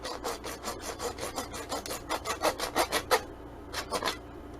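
A cheap dollar store hand saw cuts through 1/2-inch PVC pipe with a steady series of close rasping back-and-forth strokes, each stroke distinct, growing slightly louder before a brief pause and a few final strokes.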